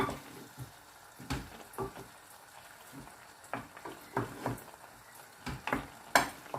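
Settled egg being stirred in a pan while cooking sea bream sarciado, with scattered scraping and clinking strokes over a faint sizzle, close and fairly quiet, no talk.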